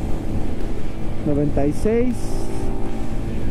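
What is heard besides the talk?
Vento Rocketman 300 motorcycle engine at speed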